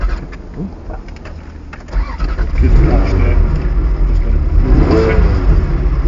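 A Ferrari 360 engine cranks and fires up, then revs with rising and falling pitch while in neutral, loud and close, with people talking over it.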